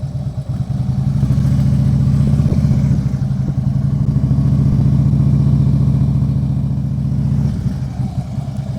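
A motorcycle engine idles steadily and close as the bike comes to a stop at the edge of a gravel driveway, a continuous low rumble with a slight drop near the end.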